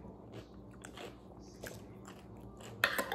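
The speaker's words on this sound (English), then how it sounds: "Did you guys count how many pickles I ate?" Dill pickles being bitten and chewed close to the microphone, soft wet crunches repeating irregularly under a quiet background, with a sharper crunch near the end.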